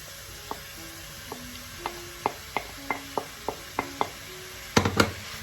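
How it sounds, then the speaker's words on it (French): Mirepoix vegetables dropped onto sizzling beef in a stew pot and stirred: a string of sharp spoon knocks and scrapes at a quickening pace over a soft sizzle, ending in a louder clattering burst, close and without voices. "On rajoute nos légumes, notre mirepoix à la viande."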